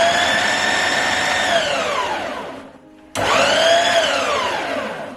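A mixer grinder chops cabbage with ginger, its motor whining loud and steady, pausing briefly and then spinning back up for a second run.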